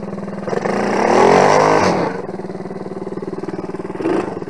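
Quad bike engine revving while riding off-road through mud, a loud close throbbing idle that surges into a rising rev, drops back, then swells briefly again.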